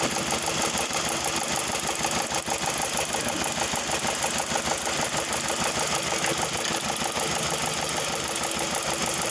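A Toyota Vios car engine idles steadily with a rough, rhythmic knocking throughout, loud and close, with no voices.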